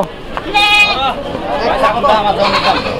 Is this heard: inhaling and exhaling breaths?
no